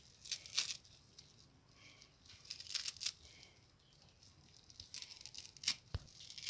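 Vegetables for bhajia are broken and cut by hand, giving quiet, close bursts of snapping, tearing and crisp cutting that come in uneven clusters.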